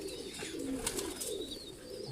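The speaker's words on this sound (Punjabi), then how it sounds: "ਬਦਰੰਗੀ ਕਬੂਤਰੀ ਹੈ ਜੀ" A female pigeon of an old Italian-type breed, off-colored, cooing softly at close range in a loft, with low throaty coos and faint chirps over a quiet background.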